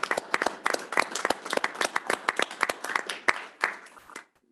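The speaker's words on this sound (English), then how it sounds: "Maybe we could just applaud her right now." Audience applauding at a school board meeting, a few dozen distinct hand claps overlapping in a lively, irregular patter that continues several seconds before cutting off into silence.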